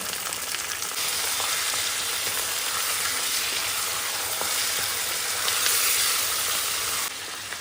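Chicken and onions frying in a pan for chicken kosha, a steady loud sizzle that holds evenly for about seven seconds and then eases slightly, with no talking.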